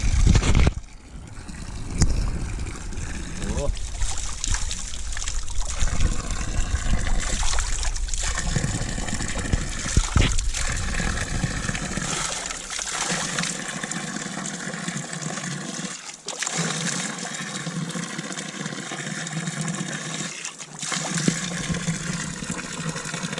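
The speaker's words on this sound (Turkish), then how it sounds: "Burası da meşhur Canak'ın çeşmesi. Gelmişken bir su içelim." Constant loud rush of water pouring from a village fountain, a close, broadband flow that continues unbroken throughout with no talk.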